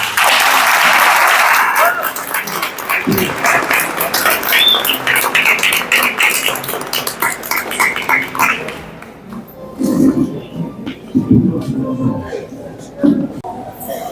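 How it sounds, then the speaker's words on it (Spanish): An audience at a lecture at a book fair in Asunción breaks into loud, dense applause that swells at first and then thins into scattered claps, with a voice speaking over the fading end. "Quiero pedir un aplauso particular."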